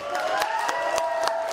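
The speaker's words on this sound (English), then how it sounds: "One more time, please, big round of applause!" An audience at a Comic Relief comedy gig in Bolton gives a brief burst of cheering and clapping, somewhat faint, with voices rising through the crowd noise.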